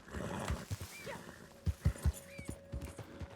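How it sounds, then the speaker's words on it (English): A horse in Red Dead Redemption 2 snorts and whinnies with rough, complaining sounds among thudding hoof clip-clops, fairly close and moderately loud, with no talk. "This horse complains constantly about everything"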